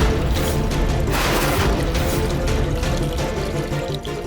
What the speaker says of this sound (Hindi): पानी डाल उसमें।